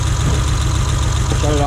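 A 2005 Acura TL with a freshly installed timing belt idles roughly with a misfire, a close, steady low engine rumble throughout, with a brief voice near the end.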